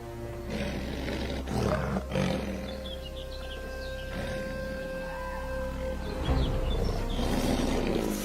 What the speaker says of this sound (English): the deep roar of an adult male lion echoes across the plains